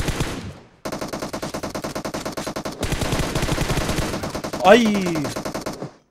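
Rapid automatic gunfire in the mobile battle royale PUBG Mobile on the Erangel map, loud and continuous in dense bursts with a short pause, ending in a brief shout from a player.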